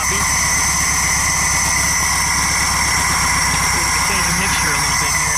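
A VW Super Beetle engine runs choppy just after its first start, a loud, close, continuous uneven rumble with a rough mechanical texture throughout.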